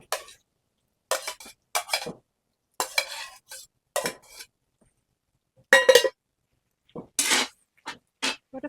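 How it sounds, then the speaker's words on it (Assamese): Mushrooms fry in a pan and are stirred with a utensil. Short, separate bursts of scraping and clinking come at irregular intervals with quiet gaps between them, and little sizzle can be heard. "ইয়াতে কোনাই মাশৰুম খিনি অকমান ভাজি লৈছো"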